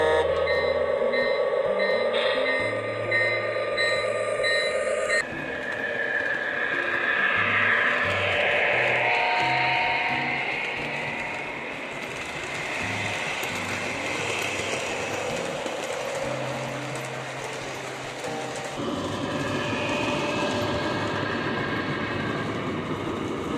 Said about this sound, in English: So here are some of my favorite custom trains running around the layout.